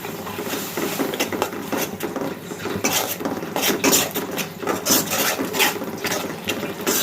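Ground coriander, turmeric and chilli powder being sautéed and stirred in a pan for a hilsa and eggplant curry, with scraping, clinking strokes of a spatula against the pan repeating over a low sizzle.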